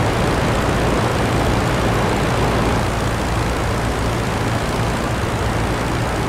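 Propeller aircraft engine in the combat flight game IL-2 Sturmovik: Battle of Stalingrad, a steady dense roar with a low throbbing drone, loud and unbroken throughout with no voice over it.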